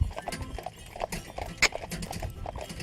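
Hooves of a harnessed team of driving horses clop in an uneven, overlapping rhythm at moderate distance, with one sharper knock partway through and no talking.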